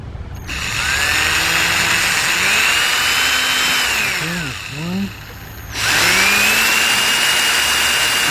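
A power drill with a hand-tightened bit spins loud and close during oil pan removal on a 2005 Cadillac CTS 3.6, with two long runs whose pitch rises and falls and a short pause between them.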